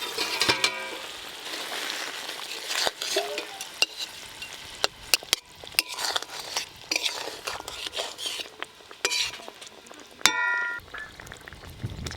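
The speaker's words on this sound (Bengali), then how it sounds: "ভেজে রাখা পাবদা মাছগুলো দিয়ে দেবো।" Fried pabda fish goes into a bubbling curry and sets off soft sizzling. Sharp clinks and scrapes of utensils against the pan come through, close and intermittent, with no clear talk.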